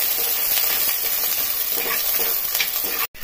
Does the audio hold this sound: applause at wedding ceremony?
no